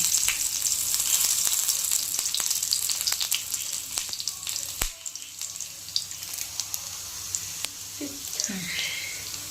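Tempering for a drumstick-leaf dish crackles and sizzles in hot oil on a stove, a dense bright hiss with sharp pops, easing after midway then resuming with clinks and a stir.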